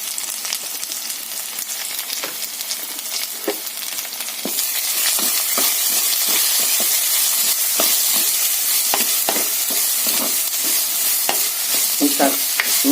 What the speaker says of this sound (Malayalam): അതിലേക്ക് നമുക്ക് സവാള ചേർത്ത് കൊടുക്കാം. സവാള പെട്ടെന്നൊന്ന് വഴണ്ട് കിട്ടുന്നതിന് വേണ്ടി ഒരല്പം ഉപ്പും കൂടി ചേർത്ത് നന്നായിട്ട് ഇളക്കി കൊടുക്കാം.